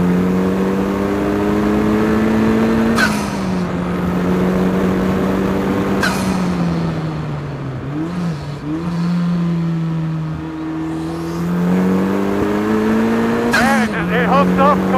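An Ariel Atom 4 fitted with a Honda Civic Type R engine accelerating hard on a race track, its loud onboard engine note climbing steadily and dropping sharply at gear changes, under someone talking throughout.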